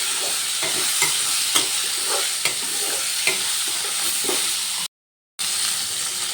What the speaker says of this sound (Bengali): নুনটা দিয়ে আবারও ভালো করে ভাজা ভাজা করে নেব।